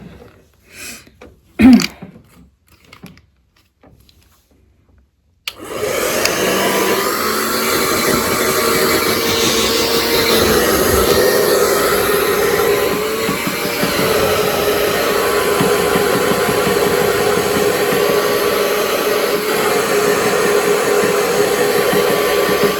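A hair dryer switches on after a few quiet seconds and a sharp sneeze-like burst, then blows loud and steady at close range until the end.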